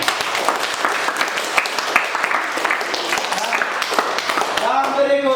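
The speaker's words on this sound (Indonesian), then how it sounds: "Kelompok 3. Kasih tepuk tangan." Classroom applause for a student discussion group, many hands clapping in a steady roar that holds throughout, with voices talking over it and rising toward the end.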